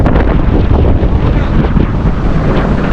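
Strong, steady wind buffets the microphone outdoors, a continuous loud rumbling roar with gusty fluctuations and no pauses, as rain approaches over nearby hills.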